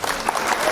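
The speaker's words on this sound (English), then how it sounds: "Cue the clapping." Applause sound effect: a dense, steady burst of crowd clapping, loud and close, lasting under a second.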